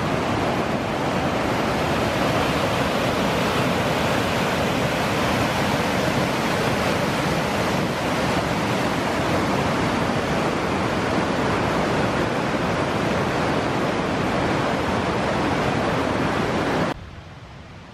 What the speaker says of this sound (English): we're up here at the Devil's Cascade off the Little Indian Sioux Falls